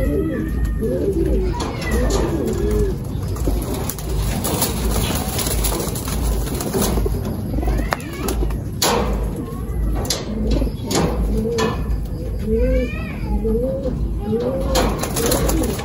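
Racing pigeons cooing in a loft, repeated soft throaty coos rising and falling close by, with faint background murmur and a rustle or door slide in the room.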